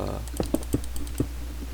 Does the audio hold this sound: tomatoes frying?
no